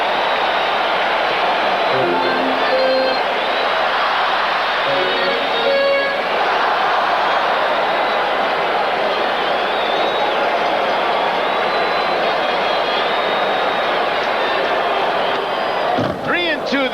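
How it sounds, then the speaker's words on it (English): A packed baseball stadium crowd roars steadily during a 1982 World Series game between Milwaukee and St. Louis, a dense sustained wall of cheering with a horn-like tone and brief chants rising over it, and commentary over the top. "Listen to the crowd."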